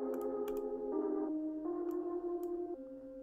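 Synth melody played on Omnisphere, treated with EQ and reverb for a beat: sustained stepwise chord-like notes changing every second or so, steady and fairly loud, with a few sharp percussive ticks on top and no talking.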